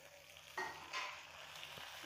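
Semolina balls tossed gently through masala in a pan without a spoon, giving a faint, brief burst of sizzling with a soft scrape and light stirring noise.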